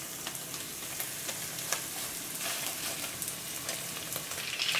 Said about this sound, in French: vous les mettez à revenir dans une poêle à sec, sans matière grasse.